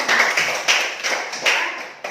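A school class claps hands together, several rhythmic bursts of applause close by and fairly loud, with no talk.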